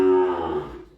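A cow lows once inside a cattle shed, a single loud, close moo that starts strong and slowly fades over about a second.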